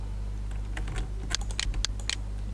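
Keys clatter on a computer keyboard as a company name is entered into a website template, a quick run of close, crisp taps that grows busier toward the end.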